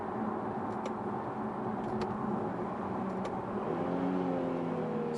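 Steady low tire roar and road hum inside an Infiniti Q50 Red Sport on Michelin performance tires, a constant drone with faint engine tones rising and shifting underneath, fairly quiet and uninterrupted.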